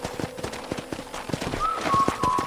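Horse hooves clip-clopping at a ranch corral in the video game Red Dead Redemption, a quick, even rhythm of close hoof strikes with a faint whistle-like tone rising in the background.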